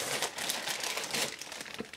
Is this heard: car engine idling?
no